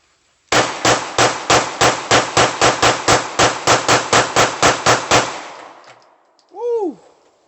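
A rapid string of about fifteen loud, close gunshots fires at an outdoor shooting range in an even rhythm, followed by a short pause and a brief whooping voice.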